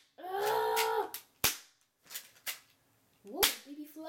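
Shots from an airsoft Taurus PT93 replica pistol, a few sharp cracks fired close to the microphone, mixed with brief voice-like sounds and some quieter noise between the shots.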